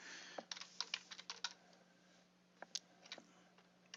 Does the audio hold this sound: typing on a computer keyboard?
yes